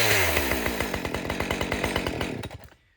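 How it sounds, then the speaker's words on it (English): A modern chainsaw idles close by with a steady, even putter of engine firing pulses, then shuts off and trails into quiet near the end; no one speaks. "I'm confident I could set this saw down and it would idle through an entire tank of fuel."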